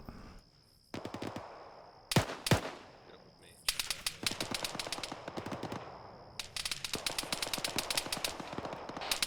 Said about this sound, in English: Fucking machine guns firing at us